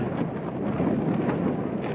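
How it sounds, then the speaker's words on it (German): Strong wind buffeting a microphone on a snowy mountain summit during a winter ski trip, a continuous loud, low rumbling roar with constant gusty flutter and no voices. "Es windet sehr, sehr stark. Hoffentlich kann man mich hören"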